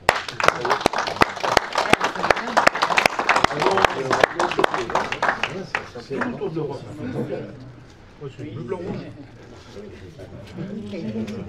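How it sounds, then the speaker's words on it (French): A conference audience of European model railway makers and craftsmen applauds crisply for about six seconds, then the clapping thins out and gives way to murmuring voices and chatter. "je pense qu'on peut les applaudir."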